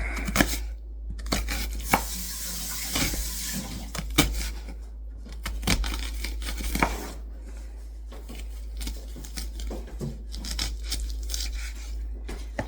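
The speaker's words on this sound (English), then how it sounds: "And then you want to just give them a nice chop." Avocado being chopped with a knife for guacamole, giving repeated crisp knife strikes on a cutting board in quick irregular bursts, close up and with no talking.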